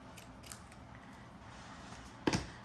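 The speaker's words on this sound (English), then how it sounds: "And then we should have a little piece of our jute. So I'm gonna cut another little chunk." A single crisp snip of scissors cutting through a piece of jute, close and clear against a quiet room with a few faint rustles beforehand.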